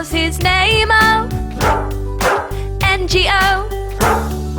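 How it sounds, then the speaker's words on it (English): A cartoon dog barks repeatedly over a sung children's nursery rhyme about a farmer's dog, the yappy barks recurring in a steady rhythm and blending closely with the music throughout. "There was a farmer who had a dog, and Bingo was his name"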